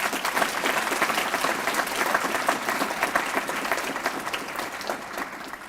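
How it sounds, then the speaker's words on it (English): An audience at a university student leadership awards ceremony applauds an award recipient. The clapping is steady, dense and moderately loud, and it continues throughout without any voices over it. "Let's give him a big round of applause, too."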